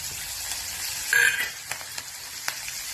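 Garlic and chillies sauté in hot oil already tempered with mustard seeds, cumin and asafoetida, giving a close crackling sizzle with a louder burst as they hit the pan, then scattered pops over a quieter hiss.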